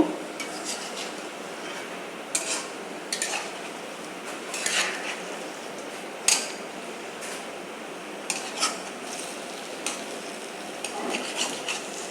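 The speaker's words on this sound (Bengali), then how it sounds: "আমি এখন পিঠাগুলাকে উল্টিয়ে দেবো" Jackfruit fritters are turned over in a frying pan, with a metal utensil clinking and scraping against the pan in scattered taps over a soft, steady background.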